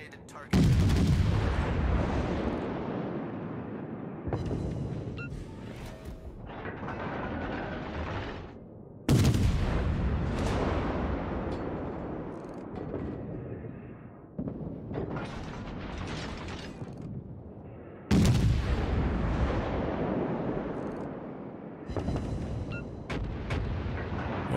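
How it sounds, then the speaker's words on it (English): Heavy naval artillery salvos from warships in the World of Warships video game, three loud booming blasts several seconds apart, each rumbling and decaying slowly with mechanical clatter between them. "Concentrate fire on the designated target."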